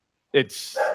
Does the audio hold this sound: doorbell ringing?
no